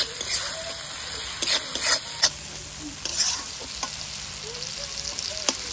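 Masala sautés in a pan with a soft, steady sizzle, broken by a few sharp clinks and scrapes of a spoon stirring it.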